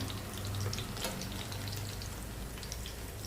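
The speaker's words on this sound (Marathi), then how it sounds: "शॅलो फ्राय करून घ्यायचे. तुम्ही तेलात पण तळू शकता." Taro vadi (alu vadi) slices shallow frying in oil in a pan, giving a steady, close sizzle with a continuous hiss and no speech.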